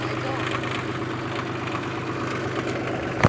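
A tractor engine idles with a steady, low rumble throughout, a constant mechanical drone with a faint knock near the end.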